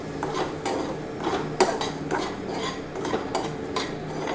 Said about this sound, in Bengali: সুজিটা দিয়ে দিলাম এবারে সুন্দর করে সবগুলোকে ভাজবো